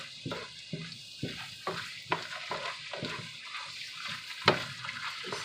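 A spatula stirs a pechay and beans stir fry in a sizzling pan, making repeated close scraping strokes in a steady rhythm over a constant frying hiss, with no talking.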